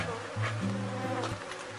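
Honeybee foragers buzzing during a hive split, a few close bees droning with shifting pitch as they fly past, soft overall and with no voices.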